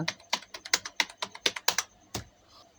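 Brisk typing on a computer keyboard, a quick run of about a dozen crisp clacks ending in one heavier key press, with no voices.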